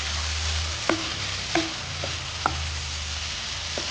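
Chopped tomatoes roasting with onions in a pan for raw banana kofta curry, a continuous sizzle with several distinct spatula scrapes and taps spaced through it, close and fairly loud.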